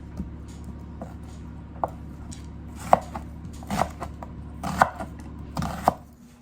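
A knife cuts an onion into large slices on a cutting board, giving a string of sharp, distinct chops spaced unevenly over a low steady background hum.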